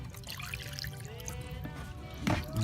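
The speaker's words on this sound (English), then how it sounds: "I'm gonna dump all this in here." Dirty aquarium tank water laden with gravel debris is dumped out, a continuous splashing pour with trickling, followed by a louder gush near the end; no talking over it.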